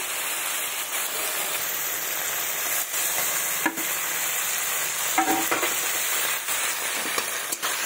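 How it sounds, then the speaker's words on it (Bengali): Chopped tomato stirred and frying in a pan for a Bengali duck egg curry, giving a steady close sizzle with soft scraping stirs throughout and no talk. "দিয়ে ভালোভাবে কষিয়ে নেব। টমেটো কুচি দিয়ে দেবো।"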